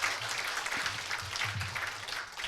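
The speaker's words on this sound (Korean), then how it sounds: "큰 격려의 박수 부탁을 드립니다" A lecture audience applauds at the close of a philosophy forum talk, a fairly quiet, even patter of clapping with a faint low murmur beneath it.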